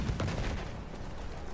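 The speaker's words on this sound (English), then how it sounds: "Lots of explosions." Battlefield 1 trench battle, a burst of heavy explosions and gunfire, dense booming rumble that starts loud and decays into a continuous thick wash of noise.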